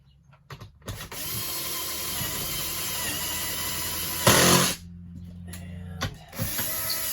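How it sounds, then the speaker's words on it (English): Screws are driven through the main structure of a truck camper being remodelled, a loud sustained whirring drill or driver running for several seconds with a brief sharper burst, then a lower steady hum. "I'm going to get these 9 screws going through the main structure first."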